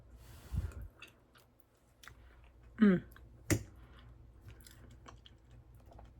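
Someone eating a roast dinner, with soft wet chewing and a couple of louder crunchy bites close to the mouth against a quiet room.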